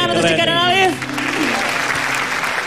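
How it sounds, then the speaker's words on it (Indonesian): A studio audience at a televised sitcom comedy show breaks into applause, a burst of clapping that swells and carries on steadily, with a voice speaking over the start. "Tepuk tangan untuk Cika dan Alif."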